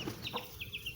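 An Aseel hen clucks softly in a short burst of quick, faint clucks, with a chick and rooster nearby in a backyard poultry setting.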